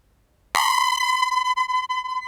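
A single sustained tone from a one-module modular synth, starting abruptly and holding steady with a bright, buzzy, harmonic-rich timbre and slight dropouts near the end.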